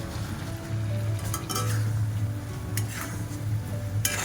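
Spice paste with sugar stirred in fries hard over a high flame, a steady close sizzle with a pan hum beneath and scattered scrapes and clinks of a spoon against the pot.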